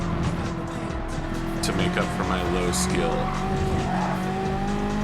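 Race car engine drone with tire squeal from Gran Turismo 7 game driving, a steady roar with shifting pitch running under continuous talking throughout.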